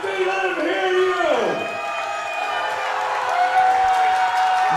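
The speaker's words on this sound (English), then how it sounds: "Nick Manders, a round of applause. Everybody, get on your feet. Let him hear you." A powerlifting meet crowd roars, whoops and cheers for a lifter at a championship session, a loud sustained swell with shouts mixed in and a voice announcing over it.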